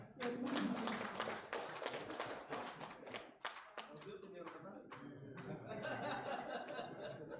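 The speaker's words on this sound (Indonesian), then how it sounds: "Prof Zul, tepuk tangan Pak Zul ya." An audience at a university conference closing ceremony applauds in a dense, steady burst of many hands that carries through the whole stretch, with some chuckling mixed in.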